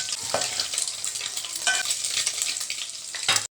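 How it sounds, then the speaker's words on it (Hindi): Eggs fry in hot ghee with a loud, continuous close-up sizzle, punctuated by a few stirring scrapes and clicks, and the sound cuts off abruptly at the end. "इसमें घी ले लिया, अंडे फ्राई करेंगे पहले।"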